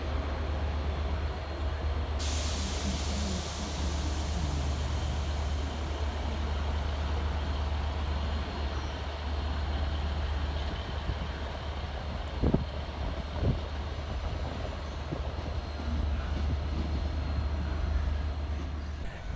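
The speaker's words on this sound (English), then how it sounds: "Departing off in the opposite direction is 150255 with the 1639 Transport for Wales service from Lumley through to Bridgend." A Class 150 Transport for Wales passenger train departs Cardiff Central station with a steady diesel rumble and broad noise that fills the whole stretch, alongside a couple of brief clanks midway, with no talk.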